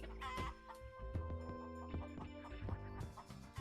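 A hen clucks in a video game, short electronic clucks repeating over steady game music with a tonal background loop, moderately loud throughout.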